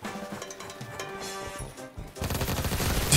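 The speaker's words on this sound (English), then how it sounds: "All right, we have an ultimate minigun and we have infinite speed." A minigun in the Roblox video game: dense rapid-fire clatter that starts softer, then swells into a louder, sustained burst of automatic gunfire over the last second, with no speech.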